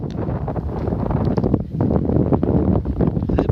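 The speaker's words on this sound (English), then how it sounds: "What makes it feel colder is the wind." Steady, loud wind buffets the microphone on a cold morning along the Florida Trail near Lake Okeechobee, a continuous roaring rumble with no speech.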